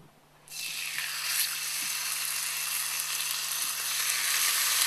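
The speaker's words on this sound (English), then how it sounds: "Our pan was preheated nice and hot so you get that nice sizzle" Bacon dropped into a preheated hot pan bursts into a loud, continuous sizzle after a brief quiet moment, crackling steadily and close up with a low hum underneath.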